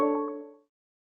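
A brief, gentle tonal chime from a Whirlpool appliance, used when the appliance is run from a mobile app. It has a couple of soft bright accents and decays within about half a second, heard alone.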